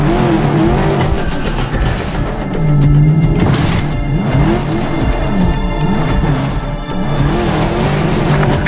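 Car engine in the Medal of Honor Warfighter video game revving and surging as the vehicle drives, with tire squeal and rising and falling pitch, loud and continuous with no talk.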